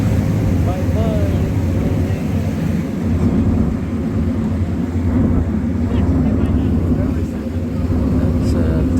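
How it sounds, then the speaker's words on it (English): A twin-engine seaplane flies over a canal in Copenhagen, a steady droning engine rumble that holds loud and continuous throughout, mixed with wind and boat noise, while people talk underneath. "That's a twin engine seaplane there,"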